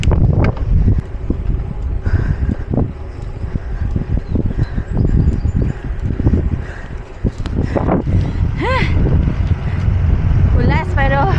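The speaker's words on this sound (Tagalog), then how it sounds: "Lakas ang hangin." Strong headwind buffets the microphone during a ride from Rizal to Baler, Aurora, in heavy, rumbling gusts, with a voice speaking underneath and a few high whistling tones near the end.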